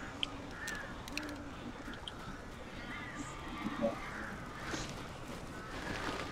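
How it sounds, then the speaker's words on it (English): Crows caw in the video game Alan Wake, several harsh calls over a low dark ambient bed, fairly faint with occasional thuds. "These birds are weird."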